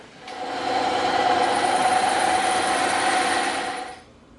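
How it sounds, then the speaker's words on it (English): A bandsaw cuts through an EVA foam axe handle, a steady whining buzz rising in at the start, holding evenly for about three and a half seconds, then dropping away as the blade runs free near the end. "we're gonna do that on the bandsaw real quick"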